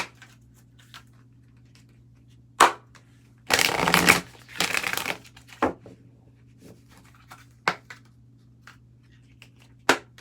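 Tarot cards shuffled by hand, two loud riffling bursts in quick succession and a few sharp taps of cards on a surface, over a quiet low hum with no talk.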